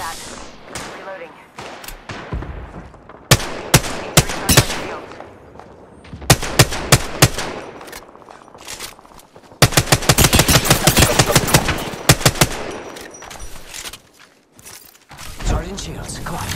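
Apex Legends gunfire: rapid automatic bursts and single shots, loud and close, with a long sustained volley in the middle and mechanical reload clicks between.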